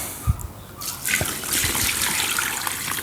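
Water pours and gushes steadily into a Moyu portable folding washing machine after a couple of soft knocks, a continuous splashing rush that grows louder partway through.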